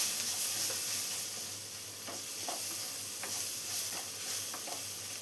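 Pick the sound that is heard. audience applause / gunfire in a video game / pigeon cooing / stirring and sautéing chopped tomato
stirring and sautéing chopped tomato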